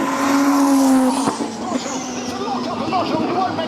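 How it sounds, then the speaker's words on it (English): Formula 2 race cars at Monza during an F2 race weekend, engines roaring past loudly with a rising whine and fading passes, a high-pitched engine note dropping away, with talk over the top. "Some of the cars sound insane for F2."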